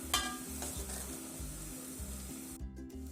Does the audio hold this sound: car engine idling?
no